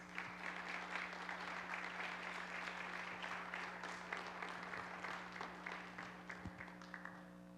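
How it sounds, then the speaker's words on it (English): An evening audience gives a welcoming round of applause for a guest speaker, with faint but steady clapping, a low electrical hum underneath, and the clapping thinning toward the end. "let's welcome Dr. Love with a great round of applause"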